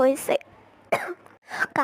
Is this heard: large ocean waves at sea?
no